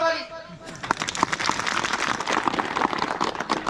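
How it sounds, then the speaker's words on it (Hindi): Applause from a crowd of villagers at an outdoor gathering in Dharali, Uttarakhand, breaking out after a brief moment of speech and carrying on as steady, dense, mid-distance clapping. "बजाओ ताली।"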